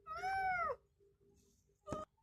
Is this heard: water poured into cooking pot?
no